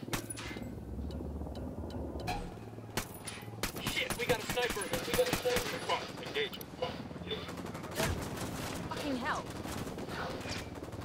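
Gunfire crackles in the tactical shooter Ghost Recon Wildlands, dense overlapping shots and bursts with sharp reports amid a chaotic firefight, with voices briefly audible.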